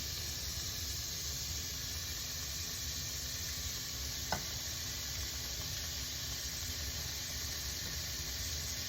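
Ground pork and garlic frying in a pan for homemade chili, giving a steady soft sizzle with a faint hiss throughout and one small click partway through.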